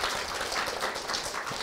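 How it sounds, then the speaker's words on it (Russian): A theatre audience breaks into applause at a play presentation, a thick continuous wash of many hands clapping that fills the hall evenly and stays loud throughout. "Под ваши бурные аплодисменты я хочу вам представить"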